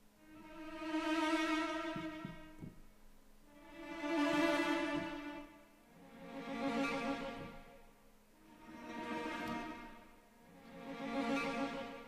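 Sampled cellos from the 8Dio Adagio library play swell notes, each rising and falling in volume. Five soft, slow swells follow one another at an even pace, sustained and quiet with no voices.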